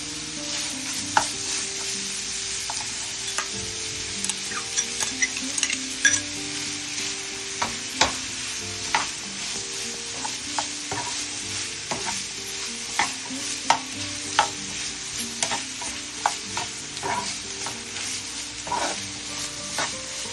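Cut onions fry steadily in a pan. A continuous bright sizzle runs throughout, broken by frequent quick clicks and scrapes of a spatula stirring, close and clear with no voices.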